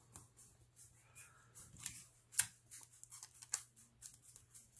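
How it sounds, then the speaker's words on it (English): Strips of tape pulled and pressed down onto purse lining in an embroidery hoop, a series of faint crackling rips and taps, close and quiet with no talking. "So let's tape this down."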